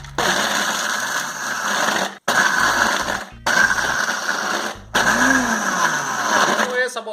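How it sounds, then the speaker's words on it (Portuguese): Kitchen blender grinding biscuits into crumbs for a cheesecake base, loud whirring in several bursts with brief pauses between, the motor pitch shifting as the load changes. "a gente vai colocar as bolachas no liquidificador e fazer uma farofa dele"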